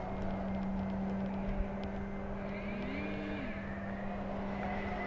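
FMS Voodoo P-51 radio-controlled warbird flying a loop, its electric motor and stock prop giving a steady buzzing drone with a rising and falling pitch sweep as it climbs and dives at a moderate distance.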